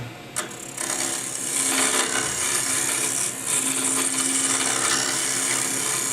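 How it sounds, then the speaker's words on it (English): A carbide woodturning tool cuts plywood on a lathe, producing a steady, loud scraping whir with a sharp click near the start and a low running hum underneath, close and continuous throughout. "these carbide tools are really good because you can sort of hog wood with them"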